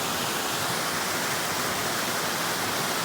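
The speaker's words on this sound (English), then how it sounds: "The water's running pretty hard." A New Hampshire brook swollen by hurricane rain runs hard, making a loud, continuous rushing hiss of water close by with no letup and no voices.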